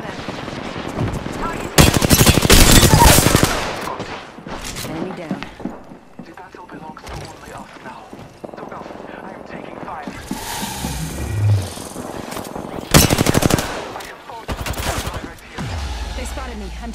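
Bursts of rapid automatic gunfire ring out in a squad-based battle royale video game, loud strafing volleys alternating with quieter stretches of shots and effects, while a player talks over the action.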